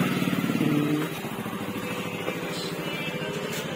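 A motorcycle engine idles and rumbles steadily close by as the bike is parked, loudest for the first second and then settling into a slightly quieter, even chugging throb.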